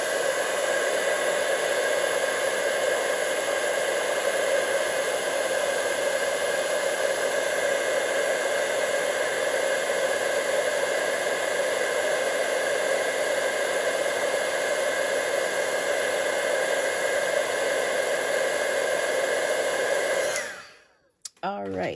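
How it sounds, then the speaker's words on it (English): A heat tool blows steadily and loudly for about twenty seconds, melting white embossing powder on a handmade card, with a constant rushing hiss that cuts off abruptly at the end. "Okay, so I've got my heat tool."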